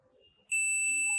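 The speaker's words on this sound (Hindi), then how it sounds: "ये देखिए, ये बीप दे रहा है, एक कंपोनेंट बीप दे रहा है, दूसरा कंपोनेंट बीप दे रहा है" A multimeter sounds a steady continuity beep while probing components on an ECM circuit board, a sustained high electronic tone starting partway in and holding to the end, loud and close with no talk.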